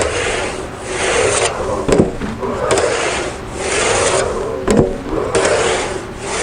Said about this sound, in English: that's one way of dealing with making a low crown panel with just an English wheel, with just one person